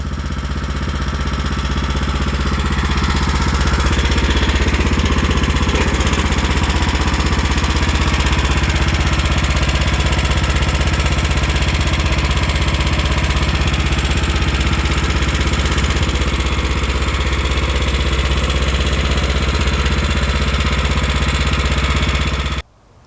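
Steady running drone of an MTD riding lawn mower's Power-More engine under load after a carburetor cleaning, loud and close with an even hum that holds for about twenty seconds before cutting off abruptly.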